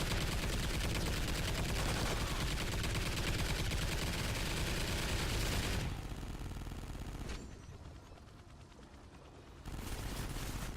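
Sentry guns firing in the video game Extinction, a steady loud stream of automatic gunfire that fades to a thinner clatter partway through before surging back.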